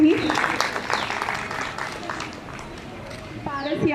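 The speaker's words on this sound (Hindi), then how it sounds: "जोरदार तालियां उनके परिवार के लिए और आज इस शुभ अवसर के लिए भी।" A crowd applauds at a retirement ceremony, a steady wash of clapping that continues under a speaker's amplified voice before rising again toward the end.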